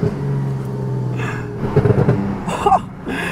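McLaren 720S Widebody engine while driving, a low steady drone with a couple of brief rising surges, heard from inside the car with short exclamations over it.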